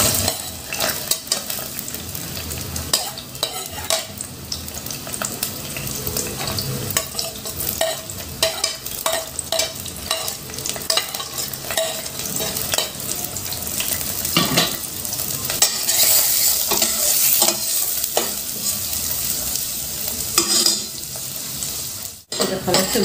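Two onions fry in a pan as they start turning golden, with a steady sizzle and frequent stirring scrapes and utensil clinks close by for the whole stretch, and no voices.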